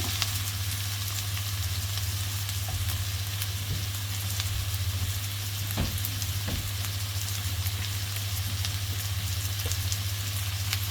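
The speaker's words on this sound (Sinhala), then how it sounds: "මේක හොඳට තෙලින් ටිකක් බැදින් දැරලා" Food fries in hot oil in a home kitchen, a steady close crackling sizzle with occasional sharper pops, continuous and undisturbed by talk, over a faint low hum.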